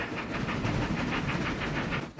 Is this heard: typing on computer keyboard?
no